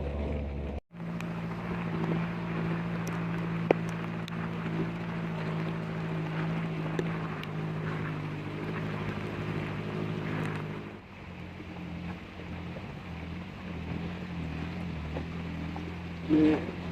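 A Suzuki Vitara crosses a river off-road in heavy rain, its engine a steady low drone mixed with wind and water noise that shifts partway through.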